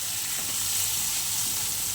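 Egg bhujia frying in a pan with salt and chilli, giving a steady, close sizzle with a broad hiss that holds evenly throughout, with no voices over it.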